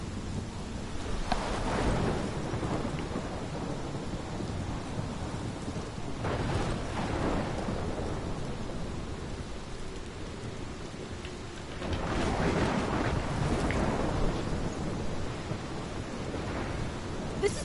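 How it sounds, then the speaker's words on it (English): Steady heavy rain pours through a Life is Strange game scene while thunder rolls in several long swells, loud and close, with no voices over the storm. "This is my storm."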